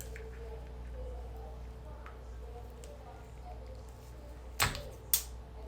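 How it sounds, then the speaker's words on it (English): Two sharp snips of scissors cutting a plastic lip gloss tube, close and crisp, a short pause apart, over a quiet low hum. "take your scissors and I want you to cut right on that line"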